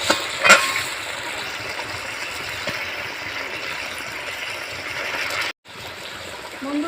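Fish curry with raw potato simmering in a pan, a steady close bubbling and sizzling hiss with a brief clink near the start and a short dropout toward the end.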